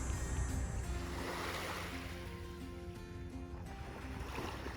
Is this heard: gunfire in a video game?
no